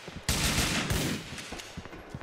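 Pistol gunshots in the video game Grand Theft Auto 4 crack in a rapid, loud burst, followed by scattered fainter shots and echoing thumps.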